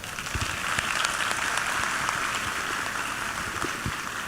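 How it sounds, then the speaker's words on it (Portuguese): A crowd claps at a book launch celebrating the Fenavinho festival, a steady, dense wash of applause throughout with some closer individual claps standing out. "uma grande salva de palmas"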